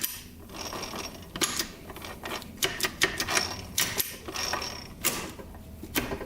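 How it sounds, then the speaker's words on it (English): A Suzuki RM125 dirt bike transmission being shifted through its gears by hand on a partly dismantled bike, giving a run of sharp metallic clicks and clunks in uneven bursts, close and fairly loud, with no talking. "We'll go through the gears here quick."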